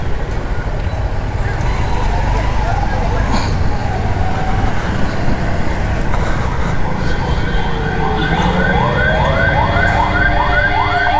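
Ambulance siren wailing through a traffic jam, rising and falling in a repeated cycle that grows louder and closer over steady engine and road noise.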